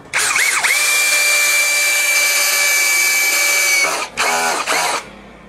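A DongCheng DCJZ2060i cordless hammer drill at torque setting 15 whines loudly and steadily for about four seconds, then its mechanical clutch slips in a few stuttering bursts before stopping.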